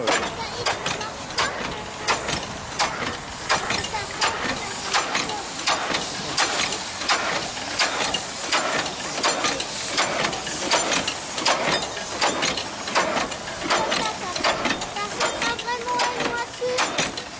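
A replica Cugnot fardier steam carriage engine runs close by, a loud steady train of rhythmic mechanical chuffs and clanks with faint voices underneath.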